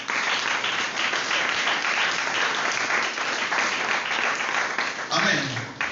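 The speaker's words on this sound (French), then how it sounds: "Si tu m'as compris, acclame le Seigneur." Church congregation applauding together, a dense continuous wash of clapping that stays loud throughout, with voices mixed in and a cheer rising near the end.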